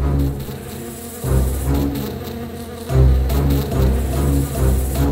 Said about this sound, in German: Dorothy und ihre Freunde sahen die Bienen auf sie zukommen.